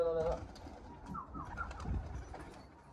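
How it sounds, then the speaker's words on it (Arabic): Soft pigeon cooing mixed with background murmur and faint voices, low burbling calls repeating over a busy outdoor ambience. "شوف حمام بتطير الحمام"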